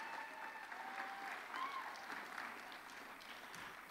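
A convention gala crowd claps in sustained applause at the Florida Democratic Party's state convention in Orlando, a dense steady roar of many hands that swells slightly midway and then eases.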